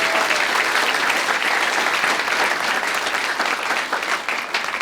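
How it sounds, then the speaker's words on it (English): Warm round of applause from a live audience at a podcast taping, many hands clapping in a continuous, fairly loud wash that holds steady and tapers a little toward the end. "give Mike a big round of applause"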